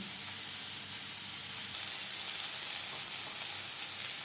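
Onions frying in oil for a Bengali fish curry, a steady broadband sizzle that grows noticeably louder partway through and then holds, close by and without any voices.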